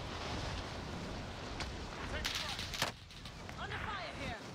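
Gunfire in the battle royale shooter Call of Duty Warzone, with several sharp distant shots and short bursts over a steady windy background, faint and mixed in game ambience.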